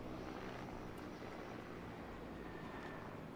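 Helicopter rotors drone in a video game, a steady dense whir filling the whole clip with no voices, fairly loud and continuous.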